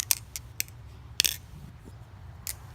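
A Replicant folding knife with sanded G10 scales flipped open and shut by hand, giving several sharp, faint metallic clicks and snaps spaced irregularly over a quiet background.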